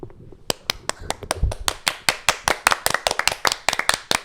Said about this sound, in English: Claps for claps Filipe.